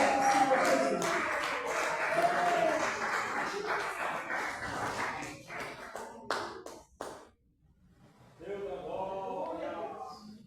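A church congregation claps in a service, with dense rhythmic applause that carries on for several seconds, breaks off with a few scattered claps, then resumes. Voices sound faintly beneath it.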